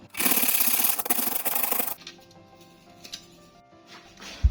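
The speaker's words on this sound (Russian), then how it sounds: "Я все-таки решила сделать это на терке" Cookies are rubbed hard against a hand grater for a cheesecake base, giving a loud, rough scraping for about two seconds, followed by faint rustling and a last small knock.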